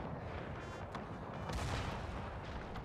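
Light infantry musket fire in the Napoleon Era Mod video game, a dense rolling crackle of volleys with a few sharper reports standing out over a continuous battle din, with no voices.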